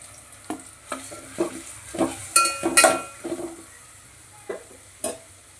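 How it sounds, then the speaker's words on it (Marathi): Onions fry in hot oil for a vegetable pulao, a soft sizzle under repeated spoon scrapes and clinks against the pan, close and without talk. "यामध्ये सर्वात आधी घालायचा आहे कांदा तेलात छान लालसर होईपर्यंत फ्राय करून घ्यायचा आहे"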